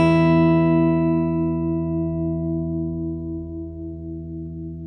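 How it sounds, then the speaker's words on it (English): Lowest and highest strings of a guitar are plucked together once, held close to the mic, and ring out as a rich chord-like tone that slowly decays over several seconds, bright overtones dying first. "Pluck the lowest string and the highest string at the same time"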